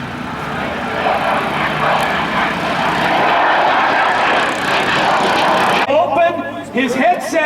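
A propeller airplane comes in to land at the Arlington fly-in airshow, its engine droning loudly and steadily, with a louder patch midway. An announcer talks over it, and the engine sound drops away near the end.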